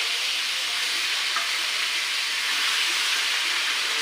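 Chicken meat hits a pan of browned onions and spices for a curry, setting off a loud, continuous hiss and sizzle of frying that stays steady and dense throughout.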